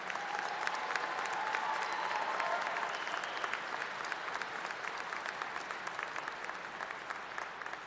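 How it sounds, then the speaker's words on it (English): Audience at a university commencement ceremony applauding summa cum laude graduates, a sustained wash of many hands clapping that holds steady throughout, with crowd murmur underneath. "Let's give them a round of applause."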